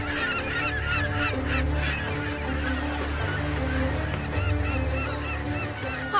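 A flock of seabirds flying together in the sky above a sandy shore gives loud, continuous honking calls that overlap densely throughout.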